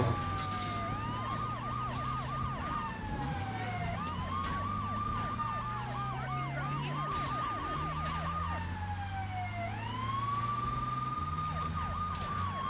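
Police car siren in Grand Theft Auto 3, a wailing tone rising and falling in repeated cycles with rapid yelp bursts between them, loud and continuous over low engine and game sounds.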